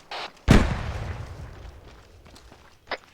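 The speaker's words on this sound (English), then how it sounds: "I'm glad to know that when I hear gunshots, it's not hostile." A single loud gunshot with a booming low tail that fades over a couple of seconds, followed later by a fainter sharp pop.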